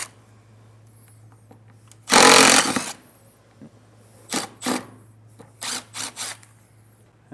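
A power driver backs screws out of a Solera slide-out awning bracket on a 2015 Forest River RV: one loud, close burst lasting under a second, then several shorter whirring pulses against a low steady hum.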